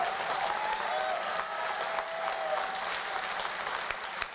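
A crowded audience claps steadily, dense, even applause from a moderately distant room, with a faint voice briefly audible underneath.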